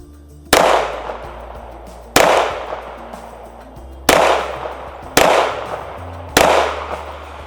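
Pistol fired at a target range, five loud, sharp shots spaced about one to two seconds apart, each with a short echoing decay.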